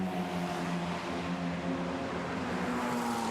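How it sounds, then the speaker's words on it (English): Formula Renault Eurocup racing car engines during qualifying at Imola, a steady sustained drone of several engines running together at moderate distance, continuous with no pauses. "Wonderful sound of the engines at this time of the morning."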